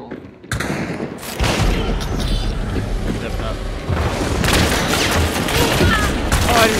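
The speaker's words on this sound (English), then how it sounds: "I think I hear a bomb lance." A bomb lance blast in the game Hunt: Showdown erupts into a loud, sustained booming roar with rumbling thuds that swell and linger, dense and close, while players talk over it.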